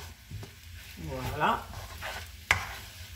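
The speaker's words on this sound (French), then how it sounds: "je la mets directement encore congelée dans le wok" A frozen ingredient for light Peking-style lacquered duck is tipped into a wok and starts to stir-fry, with brief sizzling, a scrape and a sharp clank near the end, and a short spoken word over it.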